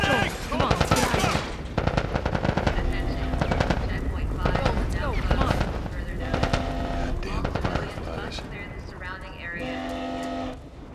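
Rapid gunfire bursts in The Last of Us Part 1, loud and dense, with automatic fire and single shots layered under urgent shouting voices in a chaotic firefight.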